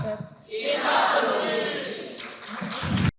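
An audience at the Kick Andy television talk show bursts into applause for a guest named Erika, rising quickly into a loud, steady wash of clapping that holds for a few seconds and then cuts off abruptly.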